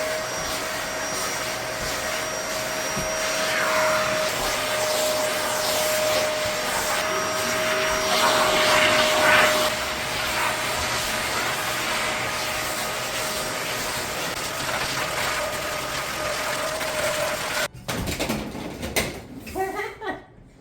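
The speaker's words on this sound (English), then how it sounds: "we are using the hose attachment with the to vacuum the back of the couch" A vacuum cleaner with its hose attachment runs loudly and steadily while cleaning the back of a living-room couch, a constant whining roar with shifting tone as the nozzle moves, cutting off near the end before brief sounds follow.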